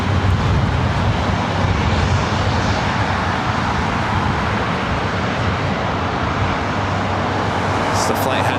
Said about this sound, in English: It's the flight heading to SFO.